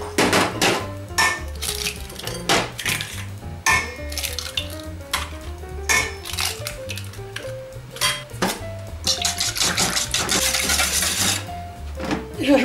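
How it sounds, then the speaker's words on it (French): Milk is poured and eggs are cracked into a bowl while making a French seafood quiche, with clattering clinks of utensils and dishes, knocks on the bowl and splashy liquid sounds throughout. "Alors j'ajoute les 25 centilitres de lait. Je vais ajouter mes 3 œufs."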